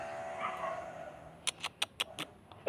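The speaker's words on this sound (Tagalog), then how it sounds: "Kawawa naman ang aso namin." A pet dog bitten by a snake whimpers in a thin, high, wavering whine, followed by a handful of short sharp yelps close by.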